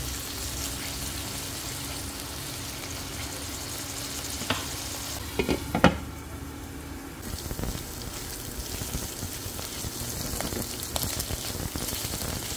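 Cubes of lightly salted pork sautéing in a hot pan until browning, a continuous crackling sizzle with a few sharper spits and stirring clatters midway.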